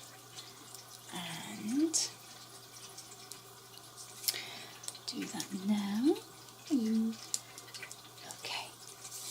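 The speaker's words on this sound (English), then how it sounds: "If you can hear trickling water, that's my kitty's water feeder that's just kind of behind me" A cat's water fountain trickles steadily behind a person who talks over it, a low continuous running-water sound with small drips, near but faint beneath the voice.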